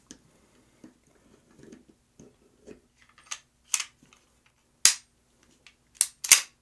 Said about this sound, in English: Now I just got to put the whole gun back together